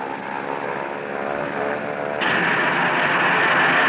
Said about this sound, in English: The airplane picks up speed and takes off